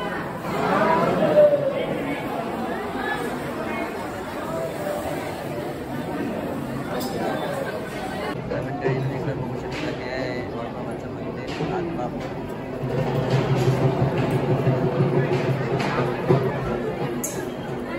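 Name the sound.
crowd chatter at Balumama Temple, Adamapur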